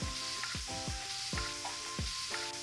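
Stuffing sautéing in rendered bacon fat in a pan gives a steady, fairly quiet sizzle, broken by a few regular swooshing stirs or scrapes.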